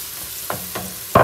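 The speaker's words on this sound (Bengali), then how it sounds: "আমার মশলাটা ভাজা হয়ে গেছে," Chopped onion frying in a pan with turmeric and cumin, a steady sizzle broken by three louder scraping bursts as the mixture is stirred, the last one the strongest.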